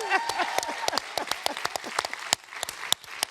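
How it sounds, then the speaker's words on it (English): Applause at the CareFest 2023 conference, a close room of audience clapping with sharp individual claps over a steady patter, briefly mixed with a voice, thinning toward the end. "Another round of applause."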